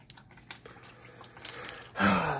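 Coolant drains from the plastic radiator of a Honda EP3, a close, steady trickling splash that starts abruptly after a quiet stretch and continues to the end.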